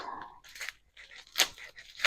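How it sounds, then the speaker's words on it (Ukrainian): Scissors cutting open a parcel, with a few crisp snips and crunching rustles of packaging close by, spaced irregularly. "Так, беремо ножиці. І починаємо."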